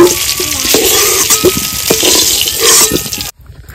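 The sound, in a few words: potatoes frying in oil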